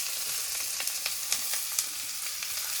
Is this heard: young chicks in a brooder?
no